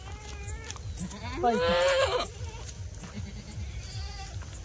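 Kathiawadi goats, including pregnant does, bleat loudly nearby in one wavering cry with fainter calls around it, while people talk in the background.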